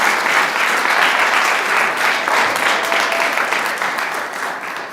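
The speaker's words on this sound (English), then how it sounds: "maybe give a little clap." Sustained applause from a summit audience, dense and loud clapping that holds steady before tapering slightly at the end.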